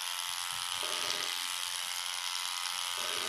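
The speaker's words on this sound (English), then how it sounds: "This motor is turned on due to a DC signal available from my PLC" A small DC motor switched on by a PLC DC signal runs at a steady high-pitched whine with a continuous buzzing hum, close and constant throughout.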